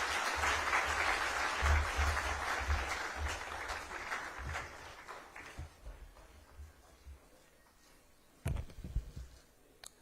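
A conference crowd applauds loudly for several seconds for a government minister, then the clapping thins and fades, leaving a few scattered sounds near the end.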